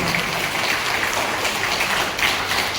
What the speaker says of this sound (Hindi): तालियों के साथ हम उनका अभिनंदन करते हैं